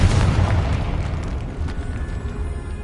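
A Confringo fire spell from Hogwarts Legacy explodes with a deep, rumbling boom that decays over a few seconds, heard alone after the incantation.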